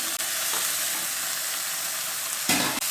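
Tomatoes sautéing in oil for murungai keerai kuzhambu, a steady, close sizzle with brief stirring breaks and a louder hiss flaring near the end.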